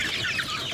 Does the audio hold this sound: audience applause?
no